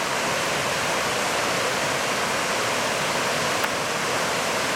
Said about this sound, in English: I could sit here and enjoy this river for a long time. I just love the sound